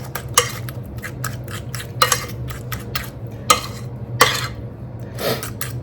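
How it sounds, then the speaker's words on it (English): Spoon stirring butter and egg together by hand in a bowl for cookie dough, a series of quick scraping clinks in uneven bursts over a low background hum. "Kind of blend it in the best you can with the egg."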